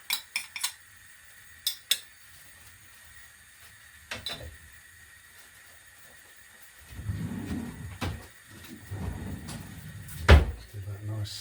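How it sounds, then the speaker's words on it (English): A spoon stirs a bread pudding mixture spiced with cinnamon and nutmeg in a bowl. A few sharp clinks come first, then a steady scraping swirl near the end, fairly quiet. "Give that a nice stir."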